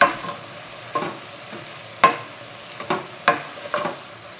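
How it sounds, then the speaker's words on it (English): Garlic green beans being stirred in a pan with soy sauce and onions while water boils down, a faint steady sizzle broken by about six sharp scraping strokes at uneven intervals, close by, no voices. "Now we gotta keep stirring until the water is all boiled down."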